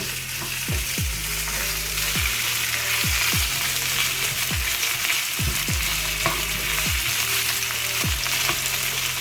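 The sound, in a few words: onion being stirred and fried in a pan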